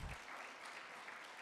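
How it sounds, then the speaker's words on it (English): Brief, faint applause from a summit audience for a panel host, a short wash of distant clapping lasting about a second and a half. "Can't we clap for Don?"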